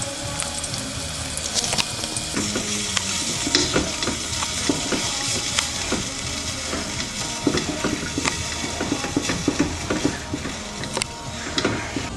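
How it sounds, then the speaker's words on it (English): Continuous bubbling and crackling of water at a rolling boil in a pot, with occasional clinks and sharper pops throughout. "The water is boiling"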